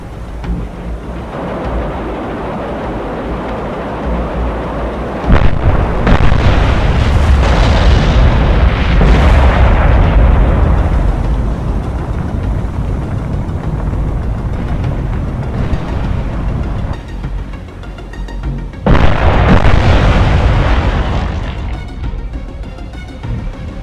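Vertical launch system missile launches from an Arleigh Burke-class destroyer in the naval game Cold Waters, loud sustained roaring rumbles with a heavy low-end boom, one long burst then a second surge, no talk.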